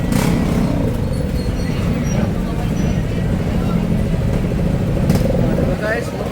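Motorcycles roll onto a ferry barge bound for Samal Island near Davao, making a steady, dense engine rumble that continues without a break throughout.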